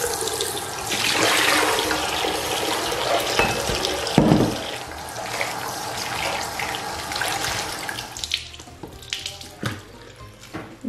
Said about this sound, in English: I'm just gonna turn the tap on as hot as it will go and rinse them really thoroughly